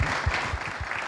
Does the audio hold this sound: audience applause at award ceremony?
yes